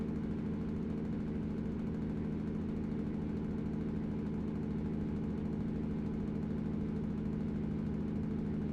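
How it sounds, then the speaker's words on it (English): Truck engine brake held while descending a hill in American Truck Simulator, a steady low droning rumble with a constant throbbing pulse, loud and unbroken throughout. "Now we're just going to ride our engine brake down this hill."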